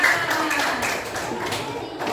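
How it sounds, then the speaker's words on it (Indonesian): Children in a classroom clap for a group of classmates, a dense patter of many hands lasting a couple of seconds, fairly close, with a voice over it. "tepuk tangan dulu untuk kelompok 5"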